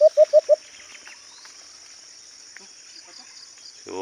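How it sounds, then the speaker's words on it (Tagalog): Birds call in a field during bird hunting: four quick, loud chirps in a row at the start, then faint scattered calls further off in a quiet, insect-hissing background. "Daming humuhuni doon sa kabila."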